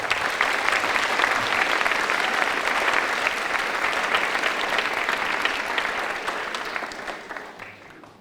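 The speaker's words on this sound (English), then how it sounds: "I would like our graduates to clap for their families." Eighth grade graduates clap for their families at a promotion ceremony, a loud, dense, sustained applause from a large group that tapers off near the end.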